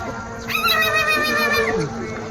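A man vocally imitates a myna bird: one loud, close, sustained warbling whistle that bends downward and fades near the end.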